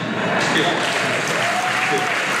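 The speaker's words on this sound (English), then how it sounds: "Yes, another round of applause." A crowd's dense applause for graduates at a high school ceremony rolls on steadily throughout, with a voice partly audible beneath it.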